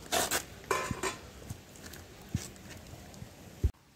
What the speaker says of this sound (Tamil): சாப்பாடு நல்லா கிளறி விட்டுக்கலாங்க.